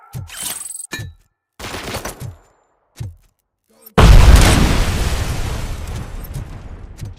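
In the video game RoboCop Rogue City, short bursts of gunfire crack in separate volleys. Then a loud grenade explosion booms and rolls into a long, noisy rumble that fades slowly.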